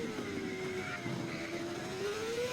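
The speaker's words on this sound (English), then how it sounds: "It literally sounds like a V8 F1 car." Race car engine in a video game, sped up so it sounds like a V8 F1 car, a high, steady whine that climbs and slides in pitch as it revs, with no talking.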